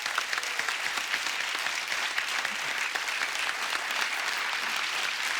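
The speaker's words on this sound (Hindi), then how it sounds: "एक बार जोरदार तालियां हंगामा 2 की सुपर टैलेंटेड कास्ट के लिए।" A studio audience on a comedy show applauds the cast of Hungama 2 with loud, dense, continuous clapping, and no voices come through.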